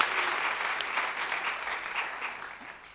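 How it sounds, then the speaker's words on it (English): Sustained audience applause at the Emirati Women Achievers 2024 ceremony, a dense, steady wash of many hands clapping that carries evenly for the full stretch without any voices over it. "please join me in a round of applause as well to congratulate the 32"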